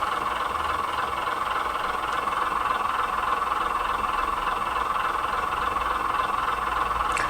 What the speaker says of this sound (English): So hopefully you can hear the engine at idle.